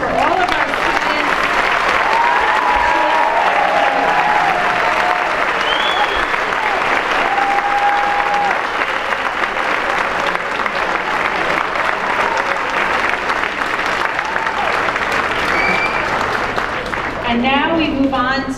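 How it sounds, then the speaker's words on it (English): Sustained audience applause at a high school academic awards night honoring students, loud and steady throughout, with a few voices calling out over the clapping and a brief voice near the end. "How about a huge applause for all of our students."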